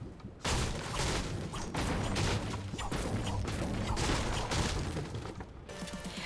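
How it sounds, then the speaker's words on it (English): Repeated cracking and smashing of wooden planks being broken in Fortnite at Sweaty Sands, dense and loud with busy game effects throughout. "break these wooden planks."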